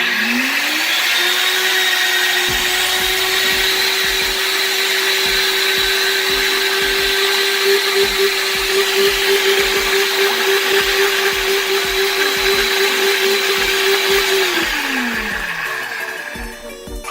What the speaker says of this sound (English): Alright, so I've got the mix in the blender.